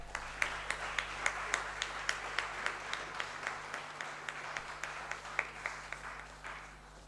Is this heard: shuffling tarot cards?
no